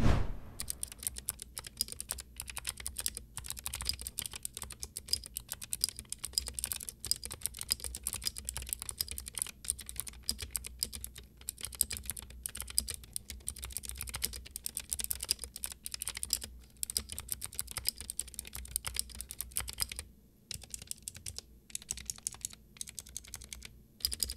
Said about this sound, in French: j'ai reçu le clavier dans sa version avec les switches bleus, et je vais vous faire écouter le bruit